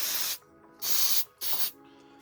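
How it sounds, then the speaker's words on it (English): Contact cleaner hisses from an aerosol can onto computer parts in three short, close bursts separated by brief silences. "spray it with a little contact cleaner"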